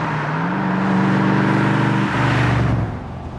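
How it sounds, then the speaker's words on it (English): A loud car engine in Texas revs up and holds a rising, throaty exhaust roar, then drops in pitch and fades slightly toward the end. "Those exhausts, they're not just pipes, they're musical instruments."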